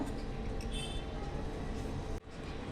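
A mixer grinder grinds soaked poha with fresh coconut, a steady close whirring drone that stops abruptly near the end, leaving a quieter hum, with no speech.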